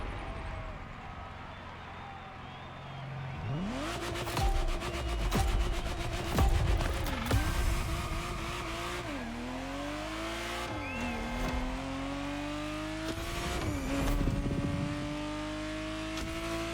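A Ferrari Testarossa engine in The Crew Motorfest fires up and drives off, revving hard through repeated gear changes with rising pitch sweeps, tire squeals and bursts of noise over about a dozen seconds.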